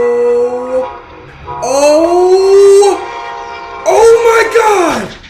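A southbound Brightline train sounds loud, drawn-out horn blasts in repeated bursts as it bears down on a car stopped on the tracks, the tones sliding in pitch.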